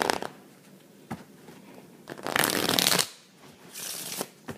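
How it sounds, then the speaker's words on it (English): A deck of playing cards is shuffled and riffled by hand, with several crisp bursts of fluttering card noise separated by quieter handling and taps, heard close up with no talk. "I'm going to start off by giving the deck a little shuffle."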